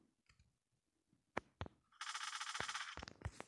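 MSMC submachine gun fired in the mobile game Call of Duty Mobile, a loud, fast burst of rapid shots, preceded and followed by a few sharp single clicks and thumps.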